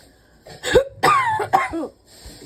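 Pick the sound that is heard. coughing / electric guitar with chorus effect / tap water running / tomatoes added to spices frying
coughing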